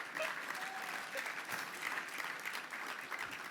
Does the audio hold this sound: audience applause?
yes